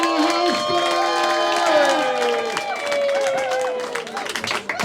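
A comedy club audience at a stand-up comedian competition heat claps and cheers steadily, with whoops and shouts rising over the dense applause, while a host's voice talks over the crowd.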